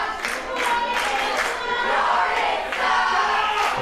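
A wrestling crowd at a live WCWO Last Rites event jeers and boos at Jordan James, a loud, sustained wash of voices and scattered claps rising in waves throughout.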